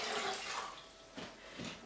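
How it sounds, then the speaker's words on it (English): Two quarts' worth of water poured into a cooking pot for wintergreen tea, a steady broadband splashing rush that holds loud and even for nearly two seconds, close by, with no voices. "So I'm pouring my second quart into the pot."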